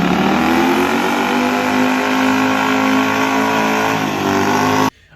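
A Jaguar 4-liter V8 of about 280 horsepower revving loud and close, a rich steady roar held for several seconds before cutting off abruptly.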